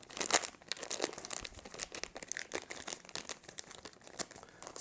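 Steady crinkling of a plastic ziplock bag being folded up around a caulking gun, close and continuous, with many small crackles and no talk.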